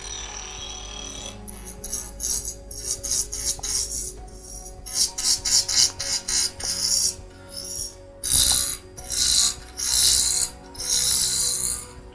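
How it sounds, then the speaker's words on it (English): A spindle roughing gouge cuts a small wooden spindle spinning at high speed on a lathe, giving a steady whir broken by repeated loud, rasping bursts as the tool bites and releases. "I'm going to use my spindle roughing gouge. Turn it pretty high RPM because it's a small spindle."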